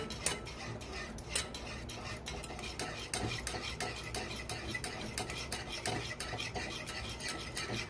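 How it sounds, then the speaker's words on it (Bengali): A whisk beats semolina batter with oil added for dhokla, making quick rhythmic strokes and clicks against the bowl. The strokes are close and steady, moderately quiet, and continue without a break. "তেলটা দিয়েও আবারও ভালো করে ফেটিয়ে নিচ্ছি"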